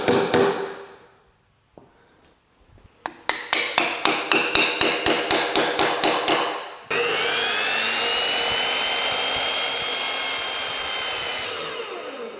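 Rhythmic, evenly spaced hammer blows drive a wedge into a pine log, ringing loud and close, then give way to a steady, continuous mechanical whine.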